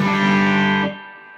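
A heavily distorted electric guitar chord through a Marshall DSL20CR amp, classic gain preamp at maximum, rings out loud and saturated, then is cut short, leaving a faint buzzing decay.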